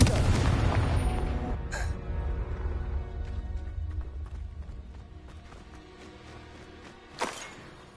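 A Confringo spell explosion in the Hogwarts Legacy video game, a heavy, close boom that opens the sound and rumbles away over several seconds, followed by scattered clatters and a sharp burst near the end.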